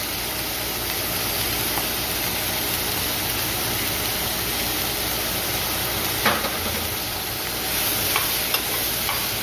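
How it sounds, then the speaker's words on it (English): Vegetables and garlic sauté in a pan with a steady, dense hiss, broken by a few louder stirring scrapes near the end, with nobody speaking. "So go ahead and cook and saute your vegetables for like a minute or two."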